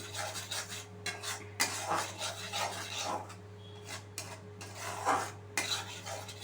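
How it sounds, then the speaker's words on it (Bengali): A spoon stirs a spiced soya dal curry mixture in a pan, making repeated rasping, scraping strokes over a low steady hum, close and fairly quiet. "সমস্ত উপকরণ আমি খুব ভালোভাবে মিশিয়ে নিয়েছি"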